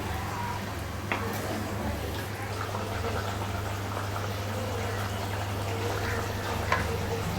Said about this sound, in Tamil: இப்போ பார்த்திங்கன்னா குழம்பு கொதிக்க ஆரம்பிச்சிடுச்சு.